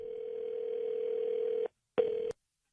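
A telephone dial tone sounds as a radio show places a call, a steady clear hum holding for about a second and a half, breaking off, then returning briefly before cutting out.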